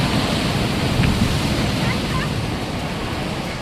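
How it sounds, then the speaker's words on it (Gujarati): High waves surging on the Arabian Sea at Dwarka during rough pre-monsoon weather: a loud, continuous roar of surf mixed with wind rumble, steady throughout and slowly easing toward the end. "15 થી 20 ફૂટ ઊંચા મોજા ઉછળવા લાગ્યા।"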